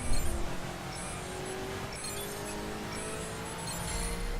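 Maserati GranTurismo engine in the racing game The Crew, driven on a rain-slick track: a steady, close engine drone holds through the clip, with a faint tire squeal and light clinking on top.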